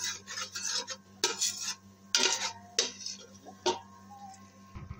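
Flour stirred continuously in a pan over low heat for a white sauce, a series of scraping utensil strokes against the pan over a steady low hum, close and moderately quiet.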